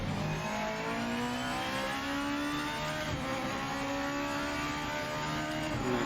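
A GT500 race car in the video game Project Motor Racing roars at high revs down a straight, engine pitch climbing through sustained acceleration, loud and continuous with no speech.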